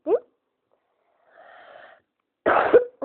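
A sick person coughs: a sharp, wheezy cough opens, then a faint hum, followed by a louder harsh cough with a raspy tail and another brief burst.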